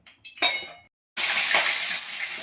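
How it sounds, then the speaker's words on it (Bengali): Hot oil in a wok, readied for frying fish and crab, crackles into a loud sustained sizzle right after a few brief metallic clinks and a short pause, close and bright. "ফটফট করে কাটছে রে বাবা"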